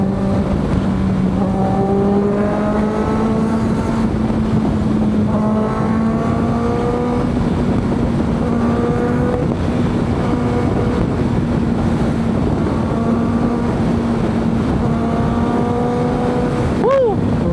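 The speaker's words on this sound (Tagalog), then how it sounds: "Namiss ko i-drive ang aming big bike." Big bike motorcycle engine while riding on the road, a loud steady drone with rising and falling gear tones under heavy wind rush.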